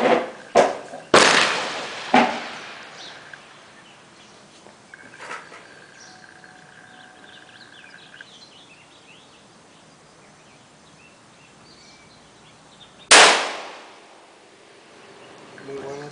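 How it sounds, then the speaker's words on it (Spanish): Several sharp rifle shots from a Winchester .243 fitted with a 10-power Leupold scope, loud and close: a quick cluster of reports near the start, then a single crack later after a long quiet stretch with faint ambient birds. "Muy bueno el tiro, nada de patada, excelente calibre."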